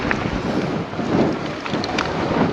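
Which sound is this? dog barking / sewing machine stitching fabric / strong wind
strong wind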